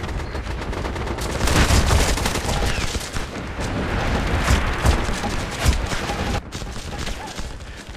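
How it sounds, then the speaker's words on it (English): Incoming artillery barrage in the video game MAG, with heavy booms and blasts mixed with rattling gunfire, loud and dense throughout, with a sudden drop near the end. "Incoming artillery."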